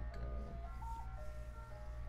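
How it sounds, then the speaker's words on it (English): Faint ice cream truck jingle playing in the distance, thin tinkling melody under a low steady background hum. "I hear the ice cream truck in the back"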